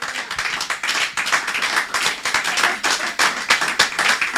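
A church congregation clapping to acclaim the Lord, with dense, steady rhythmic applause from many hands that sounds close and lively throughout.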